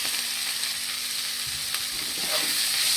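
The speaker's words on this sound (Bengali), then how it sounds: "আমি ডিমের টুকরোগুলো দিয়ে দেব।" Egg pieces frying in a pan with turmeric and salt, a steady close sizzle with occasional stirring scrapes, no talking.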